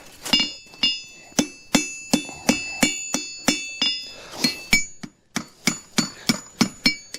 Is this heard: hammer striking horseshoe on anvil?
yes